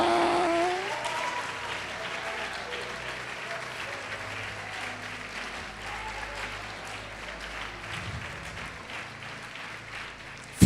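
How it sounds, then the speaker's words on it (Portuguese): A congregation claps during a church sermon, a fairly faint, steady patter of applause that lasts around ten seconds, with a brief voice near the start and a soft low hum beneath. "Pode aplaudir e"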